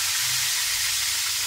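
Steady bright sizzling and crackling of tilapia frying in hot oil, close up and continuous, with no voices.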